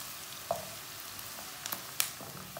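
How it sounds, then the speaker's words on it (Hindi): Onions browning in hot oil in a pan, a steady fine sizzle with a few soft clinks and stirring touches, close and alone without talk. "पहले ऑयल डाल लेते हैं। दो मैंने प्याज लिए ने, इसे ब्राउन कर लेते हैं।"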